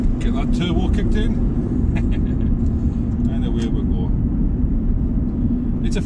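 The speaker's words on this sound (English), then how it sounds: "get that turbo kicked in." A Smart Fortwo turbo with a 900cc engine, heard from inside the cabin while driving: a loud, steady low engine and road rumble throughout, with brief voice-like sounds over it.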